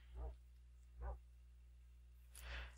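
Dogs in the Minecraft video game, giving three short, low barks, the first two about a second apart and the last after a pause, over a steady low hum.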